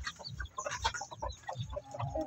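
Three-day-old native chicken chicks peep in quick, soft, scattered calls, a faint chorus of small cheeps without speech.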